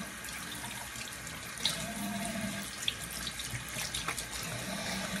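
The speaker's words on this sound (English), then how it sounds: "I'll go ahead and wash my face." Tap water runs steadily into a bathroom sink while a face is washed, a soft continuous splashing with occasional small slaps of water and hands, close but quiet.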